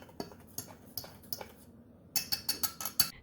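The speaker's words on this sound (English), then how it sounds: "We're going to whisk them together and then set it aside." A whisk clinks and ticks against a bowl while mixing flour, salt and baking soda. Scattered taps come first, then a quicker run of bright, close strokes.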